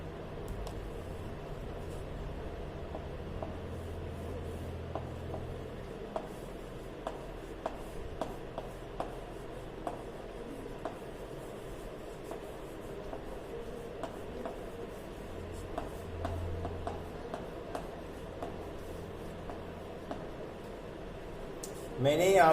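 Pen scratching across paper while handwriting a sentence, a soft, steady rub with small repeated strokes and taps, close and quiet over a low background hum, with a louder scrape near the end.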